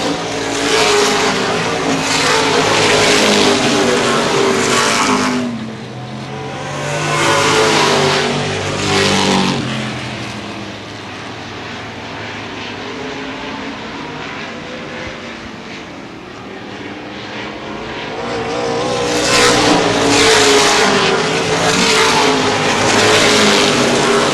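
Late model sportsman race cars of the CRA Gold Cup 50 roar around the oval at Baer Field Speedway, loud engines swelling and fading as packs pass close, with a quieter lull mid-way before the field thunders by again.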